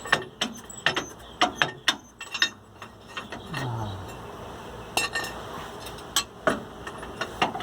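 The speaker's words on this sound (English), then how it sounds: "See if I put the crowbar here and push this way, is it going to do anything?" Metal clanks and scrapes as a crowbar pries at the rear shock of a Nissan Frontier truck: a string of sharp, close knocks and clinks at an uneven pace, with a brief grinding scrape in the middle.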